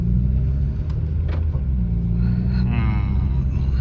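A 2021 Mercedes-AMG CLA35 4MATIC pulls away with a steady, close engine rumble and low road hum that holds evenly throughout.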